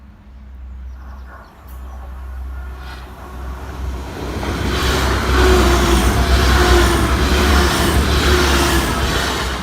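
A Great Western Railway train passes a road level crossing. A low rumble builds steadily into a loud, continuous roar of wheels and carriages rushing by close at hand, with faint clatter along the way.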